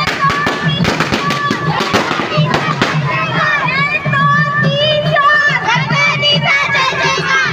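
Rapid bursts of firecrackers crackle loudly at the start, then a noisy crowd of shouting voices and children carries on over continuous festive din of a Ganesh immersion procession with loud music and a tractor.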